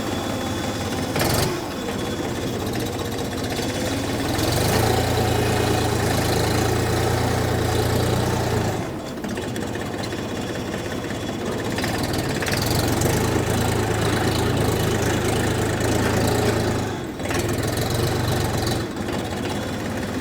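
Xingtai 244 mini tractor engine running at idle, a steady low chugging hum broken by a few short gaps and tonal changes, close and continuous without speech.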